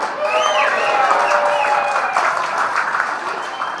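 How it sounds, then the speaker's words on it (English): Applause for a polka band at a Groundhog Day breakfast in Woodstock, Illinois, crowd clapping mixed with cheers and whoops that fade toward the end. "big round of applause for our polka band"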